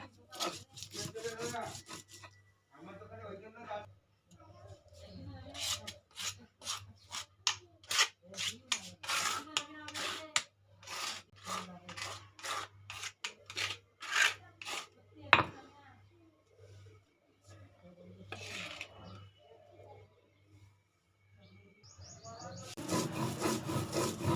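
Spices and chillies are ground by hand on a grinding stone for home cooking, a long series of close rhythmic scraping strokes, some faster and louder, with a voice speaking now and then.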